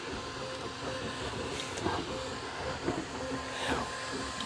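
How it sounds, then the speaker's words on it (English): A 3D printer builds a part for a printmaking press, its stepper motors whirring and hissing steadily with small rising chirps and ticks as the head moves, close and continuous with no talk. "It's a 3D printer, and it's printing a part of one of my new presses."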